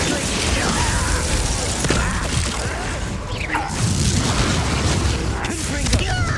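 Incendio fire spell cast in Hogwarts Legacy, a loud burst of whooshing flame with booms and crashing impacts amid continuous battle noise, while voices talk over it.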